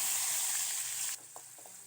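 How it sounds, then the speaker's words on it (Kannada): Cumin seeds and curry leaves hitting two spoons of hot oil for a Karnataka-style cabbage palya, a bright, hissing sizzle that cuts off abruptly partway through, leaving soft crackles and faint pan noise; no talking. "ಇವಾಗ ಕ್ಯಾಬೇಜ್ ಪಲ್ಯನ ಮಾಡೋಕ್ಕೆ 2 ಸ್ಪೂನ್ ಎಣ್ಣೆ, ಇದಕ್ಕೇನ ಜೀರಿಗೆ, ಕರಿಬೇವು"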